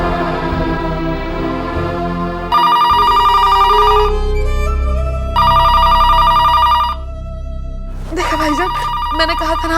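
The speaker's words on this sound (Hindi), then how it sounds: "मैंने कहा था ना आपसे, ये समर का ही फोन है।" A telephone rings with a loud melodic electronic ringtone in a Hindi TV drama, playing in repeated bursts separated by short pauses.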